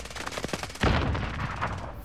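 A rapid run of video game gunshots cracks loudly and close, then a heavier blast hits and rings out into a sustained roar.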